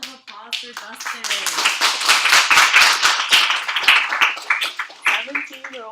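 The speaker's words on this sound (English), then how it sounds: "Give a round of applause for Dustin." Students in a university blockchain lecture give a round of rapid, sharp handclaps. The clapping builds and holds for several seconds, with voices heard briefly at the start and end.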